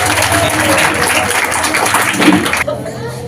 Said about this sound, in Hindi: जोरदार ताली बजाकर उनका स्वागत करेंगे